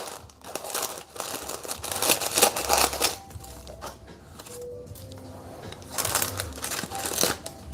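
Scissors cut parchment paper for a cheesecake pan, making close crinkling and crisp snipping in two busy bursts separated by a quieter stretch of handling rustle.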